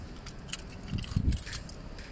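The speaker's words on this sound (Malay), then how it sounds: "Masuk kunci dulu tuan-tuan Kasih on dulu" Car keys for a Proton Saga FLX jangle close by, a brief metallic rattle peaking in a couple of bursts around the middle, otherwise quiet with low background hum.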